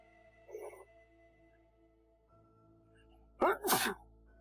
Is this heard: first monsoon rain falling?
no